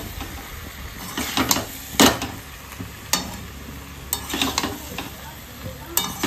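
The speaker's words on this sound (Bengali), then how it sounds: "আলুগুলো দিয়ে একটু ভালো করে কষে নেব।" Potatoes stirred and fried in a spice masala in a pan, with a steady low sizzle and repeated scraping stirs of a spoon or spatula at close range, no talk.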